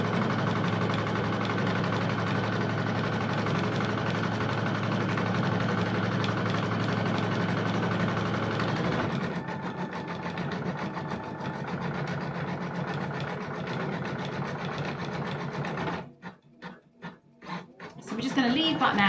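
A computerized embroidery machine stitches a skirt with a continuous fast mechanical whir and hum, near and steady, changing texture partway through and ending in a few quick stuttering pulses.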